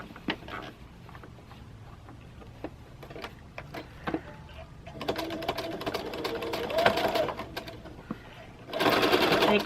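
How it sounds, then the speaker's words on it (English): A sewing machine stitches an Accuquilt Studio die cutter dust cover. A short run of rapid mechanical stitching starts near the middle and a louder, faster burst comes at the end, with quiet clicks and handling sounds before it. "Take a few stitches."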